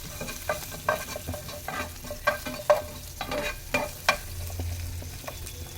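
Sizzling oil in a pan with a spoon scraping and stirring in irregular bursts as green chilli and onions fry for samosa filling, close up, no voices.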